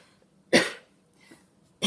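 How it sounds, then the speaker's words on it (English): Two sharp, close coughs, about a second apart, with a faint breathy sound between them. "Sorry, I have a cough."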